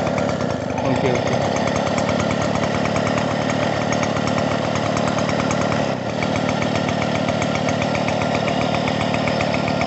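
A Suvega moped's small engine runs steadily at a fast idle, with a dense, buzzing two-stroke rattle continuing at even loudness throughout and a brief dip near the middle, while someone speaks briefly over it.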